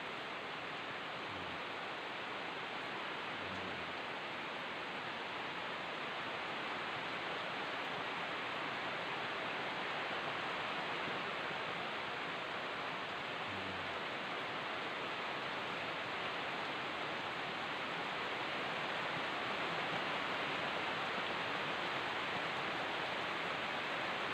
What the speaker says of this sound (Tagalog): itong ulan guys tatlong araw na to guys